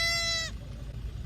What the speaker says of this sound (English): Here is a little goat that got separated from his family for a while.